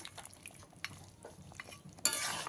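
A utensil scrapes and stirs pepper chicken (chicken kalimirch) in a pan, with soft clinks and scraping, then a louder sizzle rises near the end.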